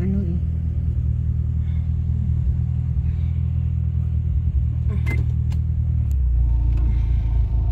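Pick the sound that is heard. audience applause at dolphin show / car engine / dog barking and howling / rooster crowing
car engine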